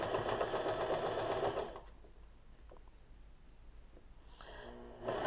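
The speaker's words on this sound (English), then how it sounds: "So hopefully this will repair it doing this home machine," A home sewing machine stitches a thick swimwear thong, giving a loud, steady motor whir and needle chatter that stops, leaves a quiet pause, and then starts again briefly.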